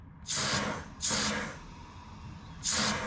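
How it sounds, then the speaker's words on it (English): Compressed air blown into a Track EVO fuel tank, heard as three loud, broad hissing bursts, each roughly half a second long, the first two close together and the third after a longer pause, with a faint rumble in between. "I'm just blowing compressed air in here"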